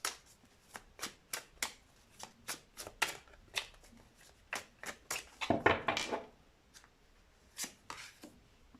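Tarot cards being shuffled and drawn, with a series of crisp close riffs and flicks in uneven rhythm and a denser rustling burst midway before a few final snaps.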